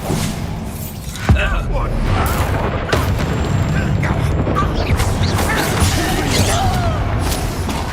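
A Bombarda spell blast in Hogwarts Legacy, a sharp booming burst followed by crackling, rumbling debris that sustains loudly amid dense combat noise.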